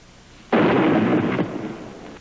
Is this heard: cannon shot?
yes